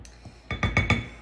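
A spoon stirs dry gluten-free pie crust ingredients with baking powder in a bowl, giving four quick scraping clinks in a row, close and fairly quiet, with no voice over them.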